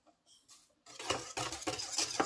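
Fekkas dough being mixed by hand in a bowl: soft scraping and a few light knocks at first, then a louder run of repeated stirring and clinking close up.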